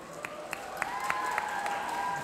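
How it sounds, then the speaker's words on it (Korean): Crowd applause at a film premiere stage greeting at the Busan International Film Festival, scattered claps ringing out over a soft sustained tone, modest and somewhat distant. "여러분 박수 한번 부탁드릴게요."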